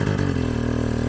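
A dirt bike engine runs steadily at low revs as the clutch barely engages the rear wheel while the bike is pushed uphill, a close, loud, even thrumming throughout.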